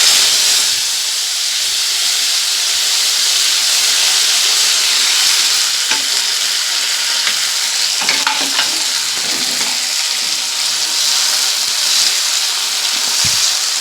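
Chopped tomatoes, green peas, green chillies and black cumin fry in a pan for a Bengali cabbage kofta curry, giving a steady loud hiss and sizzle throughout with a few brief stirring scrapes near the middle.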